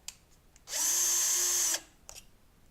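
A power drill runs in one steady, loud burst of about a second while driving the supplied screws tight on a Westinghouse pulley light fixture, with faint handling clicks before and after.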